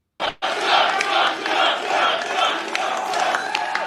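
A large crowd cheering and chanting for Donald Trump after his Iowa caucus win, a loud, sustained roar with rhythmic swells that starts abruptly after a brief gap.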